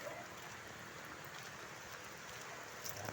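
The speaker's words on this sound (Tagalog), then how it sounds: "Dahil po umuulan na naman mga idol." Steady rain falling outdoors in Sulo Norte, Zambales, a continuous hiss of drops on surfaces, fairly even and close, with no talking.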